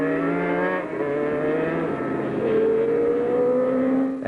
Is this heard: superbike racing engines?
yes